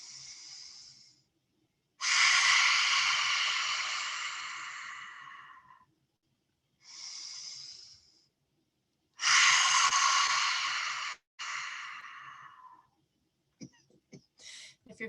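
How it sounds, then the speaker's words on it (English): Several loud, forceful breaths pushed out through the throat, long rasping exhales separated by pauses, close by, followed by a few short sniffs and huffs. "it's a big breath for clearing in the back of our throat"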